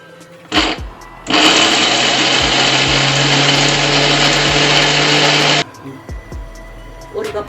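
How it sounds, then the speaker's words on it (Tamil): A mixer grinder whirs loudly and steadily for about four seconds, grinding oil-fried onion with a tomato into masala for chicken kulambu, framed by short clicks and handling knocks before and after. "ஒரே ஒரு தக்காளி, இது ரெண்டு இதோட மிக்ஸ் பண்ணி அரைக்கணும்."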